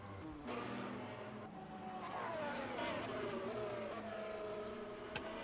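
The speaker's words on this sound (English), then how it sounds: "they got the sounds pretty damn good for that F1 car for it being a mod" A modded F1 car racing in Assetto Corsa, its high-revving engine whining steadily as pitch climbs and shifts, heard fairly faint and close with no talking.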